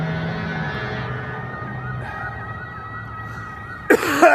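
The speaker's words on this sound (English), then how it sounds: "I can't get away from these goddamn sirens." Emergency vehicle sirens wail steadily at a distance with a faint warbling tone, ending in a sudden loud burst of nearby noise.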